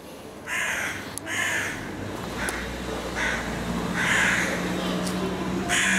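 A carrion crow chick caws repeatedly in short hoarse bursts at a steady rhythm, close by, with a person talking softly underneath.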